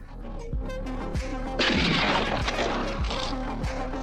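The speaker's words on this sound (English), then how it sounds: "Howie hears shots" Gunshots ring out in a western film scene, a string of sharp, booming reports at a steady rhythm of roughly one every half second, with a heavier crash midway and a dense background of other action sounds.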